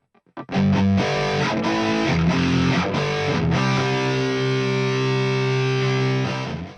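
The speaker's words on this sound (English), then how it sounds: "Add some distortion and it starts to sound pretty cool." A heavily distorted electric guitar chugs through thick, buzzing chords that fill the sound. The last chord is held and sustains to the end.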